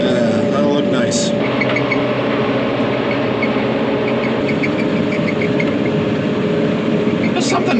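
A tractor engine runs steadily in a field in the early morning, a loud continuous low rumble that holds level throughout, with a faint higher whine on top.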